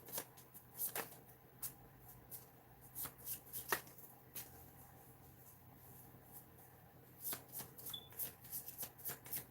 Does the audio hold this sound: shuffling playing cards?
yes